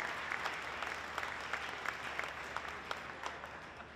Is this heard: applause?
yes